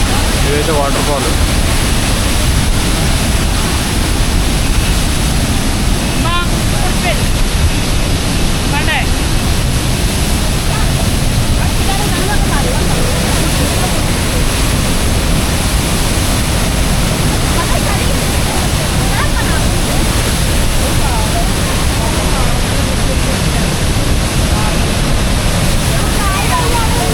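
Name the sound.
Meenmutty waterfall in Wayanad, Kerala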